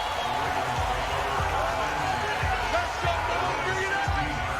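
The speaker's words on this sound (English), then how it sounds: "The crowd maybe losing just a little bit of the edge after back-to-back punts." Stadium crowd in a Madden football video game at a Ravens at Seahawks matchup, a steady murmuring roar with rhythmic low thuds, running under a commentator's voice.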